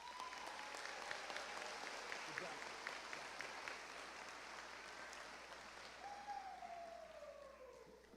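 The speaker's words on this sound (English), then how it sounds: "Let's give these guys a round of applause." Applause from the audience at the East Alton-Wood River Community High School class of 2024 graduation is faint and distant, a soft continuous patter that gradually thins out before a voice begins speaking over it.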